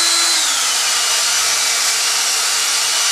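A steady, loud whirring of a power drill boring into a trident maple bonsai trunk, running continuously, with a slight drop in pitch near the start as it bites in.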